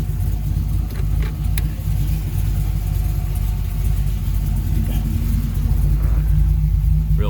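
An LS-swapped 1955 Chevy 210 coupe idles steadily, a constant low engine rumble with a smooth, unbroken drone, close and fairly loud, with no talk over it.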